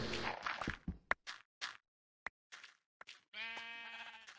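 Sheep bleat in the Minecraft video game, a few short clipped cries separated by silence, ending in a longer, loud nasal bleat with clear harmonics.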